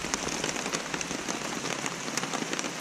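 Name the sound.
rain falling outside during a hike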